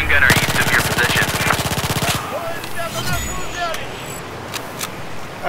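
Battlefield 4 machine gun fire roars in a rapid sustained burst for about two seconds, loud and close, then gives way to distant scattered shots and game noise, with faint voices in the background.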